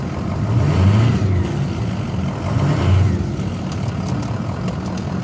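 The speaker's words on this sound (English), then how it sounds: "Okay, I've got the engine started." A car engine idles steadily with a low, continuous rumble and slight swells in level, tested with a left foot accelerator device; no voices are heard over the motor.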